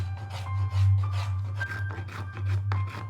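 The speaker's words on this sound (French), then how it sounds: "Quand on prend les bois, on les frotte délicatement." Fingers rub softly over the wood of a violin in the making, giving close, dry rasping strokes in a steady back-and-forth rhythm over a low continuous hum.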